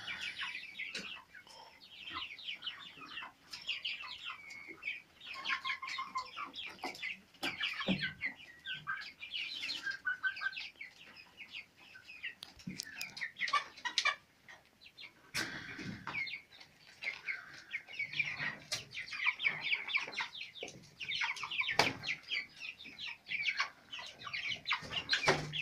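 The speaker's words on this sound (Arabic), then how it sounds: "طيور جوعة وعطشة" A flock of hungry, thirsty Sasso crossbred broiler chickens clucks and chirps continuously for the whole stretch, with overlapping calls, occasional louder squawks and brief wing flaps, all at fairly low level.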